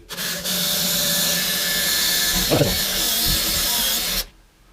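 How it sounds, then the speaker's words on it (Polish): A power drill bores through a wooden door for a door handle screw, giving a steady, loud, close whirring grind for about four seconds before stopping abruptly. "Podczas wiercenia muszę starać się trzymać wiertarkę prostopadle do drzwi."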